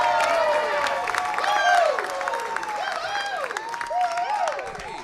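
Comedy club crowd clapping and cheering as a comedian from Manchester, Connecticut takes the stage, a dense sustained wash of applause with whoops and shouted voices over it, loud and close throughout.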